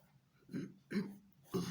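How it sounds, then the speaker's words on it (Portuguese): Three short, low throat-clearing rasps spaced about half a second apart, close and quiet, with nothing else around them. "Um pigarrinho."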